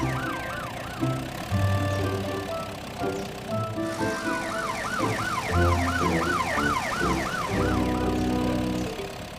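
A loud cartoon police siren wails in quick, repeating rises and falls, with traffic rumble and scattered clunks underneath.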